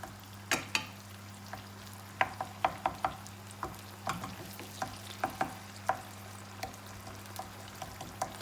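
Fresh tomato sauce being stirred in a hot pan over high heat, a spoon scraping and clacking in irregular taps against a steady low sizzle, close and fairly quiet with no talking.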